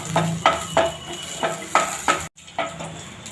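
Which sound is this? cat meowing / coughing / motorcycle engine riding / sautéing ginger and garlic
sautéing ginger and garlic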